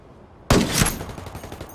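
Gunfire erupts in Ghost Recon Wildlands, a sudden loud volley of shots that keeps rattling after a quiet lead-in, close and harsh, with no voices over it.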